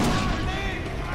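A grenade blast in the shooter game Far Cry 4, a dense loud burst of rumbling explosive noise with gunfire-like crackle over about a second, with a voice underneath.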